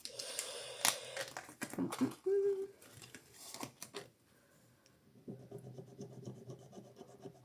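A scratch card is scraped with quick, close rasping strokes at first, then quieter rubbing and faint handling, with a voice murmuring softly partway through.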